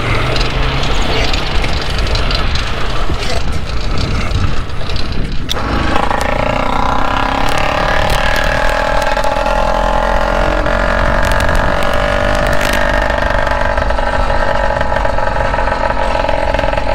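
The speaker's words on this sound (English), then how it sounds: "That's a completely cold engine too." A motorized bicycle's small cold engine, fitted with a magneto, runs steadily and loudly up close, starting with a rough, uneven sputter and then settling after a few seconds into a continuous buzzing drone with a strong, steady tone.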